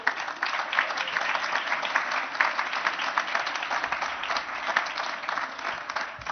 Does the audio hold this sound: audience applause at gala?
yes